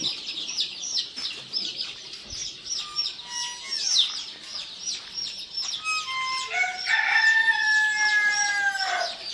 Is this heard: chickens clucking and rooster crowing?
yes